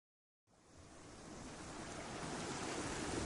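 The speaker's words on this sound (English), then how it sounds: "Our story begins here, the Atlantic Ocean, the birthplace of British weather" Steady broadband rush of Atlantic Ocean surf begins after a brief silence and builds slightly, with a wind-like roar and no voices.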